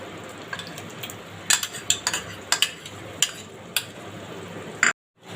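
Tomato pickle mixed in a pan with roasted ground five-spice, black pepper and mashed tamarind, a spoon clinking and scraping in repeated strokes, close and without talk, ending abruptly.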